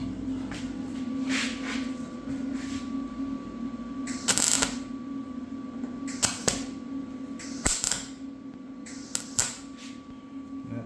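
A car body B pillar is welded in a series of short crackling tack bursts spaced a second or two apart over a steady electrical hum, close and fairly loud.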